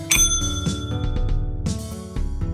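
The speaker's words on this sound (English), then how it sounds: "You hit the bell on the counter to get her attention" A shop counter bell in a visual novel game rings with a bright metallic ding, followed by several quicker struck rings. Each strike lingers in a clear, close, sustained tone.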